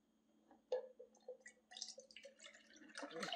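One cup of whole milk is poured into a container, giving a soft splashing and trickling stream that builds and thickens toward the end, close and fairly quiet.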